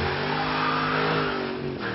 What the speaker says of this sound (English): The Bullett counters with a potent V8 and hair-raising exhaust note of its own.